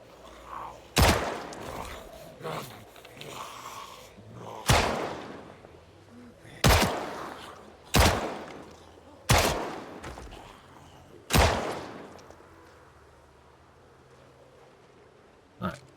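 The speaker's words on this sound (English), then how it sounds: "test out how good we're gonna be here with the M9 pistol" Six sharp M9 pistol shots ring out in Project Zomboid Build 42, spaced irregularly a second or two apart, each a loud crack with a short decaying tail, over faint game ambience.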